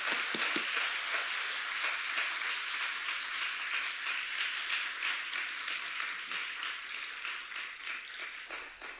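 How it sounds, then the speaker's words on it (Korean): A church congregation claps warmly to welcome the pastor, a dense, sustained wash of applause that holds steady and then thins slightly toward the end, with no talking over it. "목사님 나오실 때 큰 박수로 맞이하시겠습니다."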